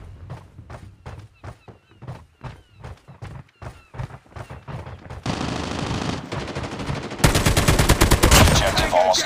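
Gunfire from a Call of Duty Mobile match starts as a string of sharp single shots at an even pace, then turns into dense, loud automatic bursts that build toward the end.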